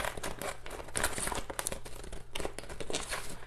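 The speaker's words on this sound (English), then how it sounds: "I'm gonna just take my scissors and I'm gonna cut one of these images." Scissors snip through a paper image transfer for a thrifted jewelry box makeover, giving close, quiet crinkling and cutting rustles in quick succession.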